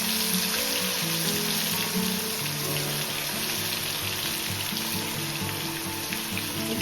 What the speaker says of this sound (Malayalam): അതിൻ്റെ കൂട്ടത്തിൽ തന്നെ നമ്മൾ ചിക്കനും കുറച്ച് ഫ്രൈ ആക്കി എടുക്കുന്നുണ്ട് കേട്ടോ